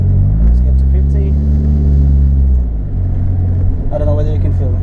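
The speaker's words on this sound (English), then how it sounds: "This is a very quiet and comfortable car." A quiet, comfortable car with an automatic transmission drives and accelerates through town, giving a steady low engine and road rumble. A voice talks over it throughout, and the engine tone rises near the end.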